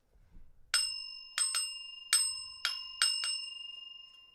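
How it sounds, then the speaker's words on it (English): A bell struck with a hammer, six bright ringing strikes in uneven pairs, each clear tone decaying briefly, close and loud against near silence. "He can ring the bell with the hammer."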